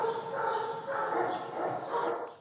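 Kangal dogs whimper and yip continuously against a noisy outdoor farm background, with no clear pauses across the short stretch.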